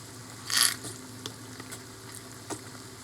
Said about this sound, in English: You're going to just stir that right in.